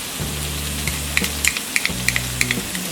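Pasta sizzles and fries in a pan as tomato sauce goes in, with a steady crackling hiss and a run of sharp stirring clicks from a utensil against the pan, close and fairly loud.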